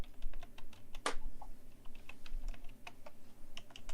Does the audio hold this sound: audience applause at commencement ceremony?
no